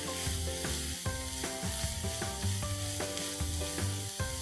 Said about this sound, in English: Let's add the onions and saute it pink and soft.